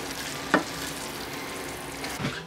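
Parmesan being stirred into a bell pepper filling in a pan, a quiet sizzle with a single spoon scrape near the start and another faint scrape at the end.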